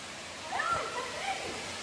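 A continuous broadband rush from a waterfall on a hiking trail in Croatia, a steady, fairly soft roar with slight swells, heard from a moderate distance.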